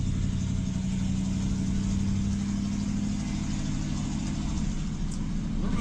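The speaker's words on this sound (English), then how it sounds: "Small block Chevy." A small block Chevy V8 idles in a square body ramp truck, a steady low rumble close by that holds an even throb for several seconds with no voices over it.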